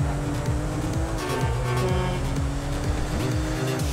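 A car driving in GTA V, its engine droning loudly and steadily with rising and falling revs and some tire noise, alone without voices.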